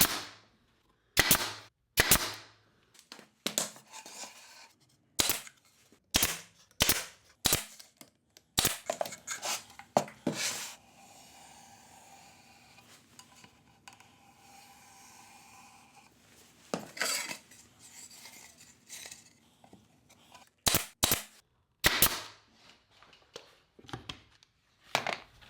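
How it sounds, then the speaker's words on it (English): A pneumatic nail gun fires repeatedly while veneered box parts are nailed together, sharp loud close bangs in irregular clusters, with a quieter stretch of faint workshop rattling and handling between the bursts. "when I nail the parts together, I'm going to hold the gun like this"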